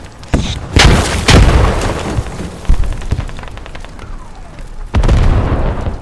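Grenade blast in a squad-based military shooter game: loud booming explosions with a heavy low-end burst near the start, a second strong boom around the middle, and another at the end, amid ongoing battle noise.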